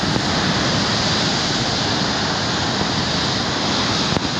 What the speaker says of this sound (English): Because the waves are going crazy today.